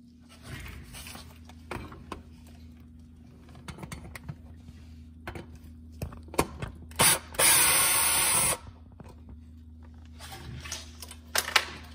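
Close ratchet clicks backing out a 10mm bolt on the brake line bracket of a Porsche Cayman 987, in short bursts with a louder sustained burst near the middle, no talking.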